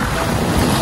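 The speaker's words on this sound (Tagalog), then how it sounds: "Ang lakas ng alon." Strong ocean waves at a beach near a breakwater, a dense, steady wash of surf and wind buffeting the microphone, loud and unbroken for under a second.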